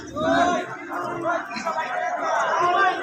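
A dense crowd at a traditional village market in Dharmapasha, Sunamganj, Bangladesh, chatters and shouts all at once, a loud continuous babble of many voices close by.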